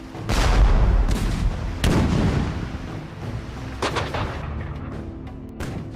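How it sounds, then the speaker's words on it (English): A British artillery barrage in a Revolutionary War reenactment, with deep booming cannon shots rolling over one another in a dense, loud, continuous rumble. The heaviest blasts land near the start and middle, with no voices over them. "The British unleashed their guns."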